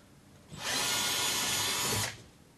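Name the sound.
power drill with 5mm bit drilling holes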